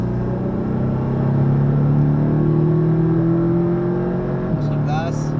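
A Porsche 718 Cayman accelerating around the Le Mans circuit, its engine a loud, steady, close drone that climbs gradually in pitch, with a brief higher whine near the end.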